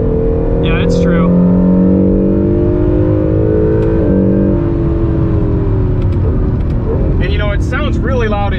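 Engine of a 2020 Acura NSX droning loudly inside the cabin during track driving, a steady, close, revving hum that rises and falls while people talk over it.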